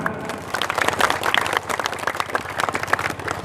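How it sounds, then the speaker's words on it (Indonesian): An indoor audience at a GRIB community event in Indramayu claps, a dense patter of hands that builds and stays steady for a few seconds, close and moderately loud. "Tepuk tangan."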